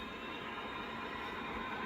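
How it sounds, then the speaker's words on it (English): A DCC model train reverses on a layout, giving a steady, continuous rail rumble and wheel hiss at low level throughout, with no voices. "Can this train even be backed up?"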